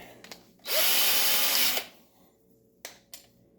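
A 1/2-inch power drill whirs at high speed for about a second, then stops, followed by a couple of short clicks and bumps nearby.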